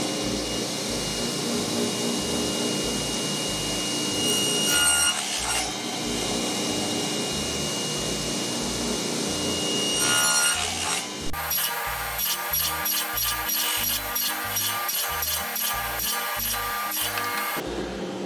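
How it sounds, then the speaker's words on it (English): A plane blade plows a groove in wood with repeated rasping strokes in a steady back-and-forth rhythm. The scraping is close and moderately loud and grows brighter and more clipped toward the end. "So now I'm just going to plow that out with the blade."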